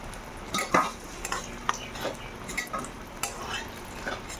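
Eggplant fries in a pan with a soft, low sizzle, broken by intermittent scrapes and clicks of a spatula against the metal.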